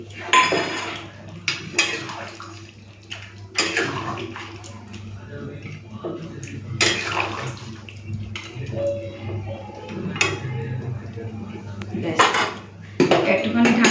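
A metal spoon clatters and scrapes in a kadai as garam masala is mixed into mutton curry with papaya and potato, with repeated clinks over a low steady hum and faint speech in places.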